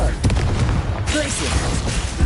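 A Confringo blasting spell is cast in the Hogwarts Legacy video game, a dense burst of explosive crackle and booming impact layered over other spell effects and combat noise, loud and close throughout.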